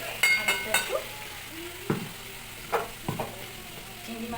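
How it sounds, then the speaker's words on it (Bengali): Tomato, garlic, onion, cumin and chili fry quietly in a pan under a soft sizzle, broken by several sharp clinks and scrapes of a spoon stirring against the metal. "এটার মধ্যে টমেটো, রসুন, পেঁয়াজ, জিরে, তারপরে লঙ্কা সব কিছু দিয়ে দিয়েছি। দিয়ে এটাকে ভেজে নিয়ে দিচ্ছি।"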